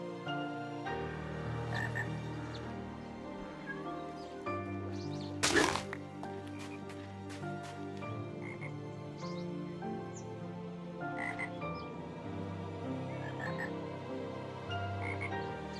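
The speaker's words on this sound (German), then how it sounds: "während wir mal kurz den Fröschen lauschen" Minecraft frogs croaking in a steady, layered chorus of deep ribbity calls, close and continuous, with a brief sharp crackle partway through and faint chirps in the background.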